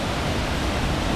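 The waterfall at Oneonta Gorge rushes in a dense, steady roar, loud and continuous with no other sounds.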